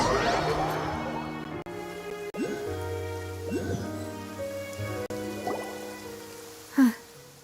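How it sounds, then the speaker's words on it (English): Steady rain pours down in the Genshin Impact video game, a dense hiss of drops on surfaces running throughout with a soft musical score underneath and a brief swoosh near the end. "It's been raining non-stop for a few days now."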